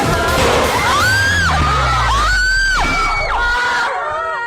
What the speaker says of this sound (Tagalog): Dinig ang iyakan ng mga estudyante kasabay ng sunod-sunod na putok ng baril sa loob ng San Jose National High School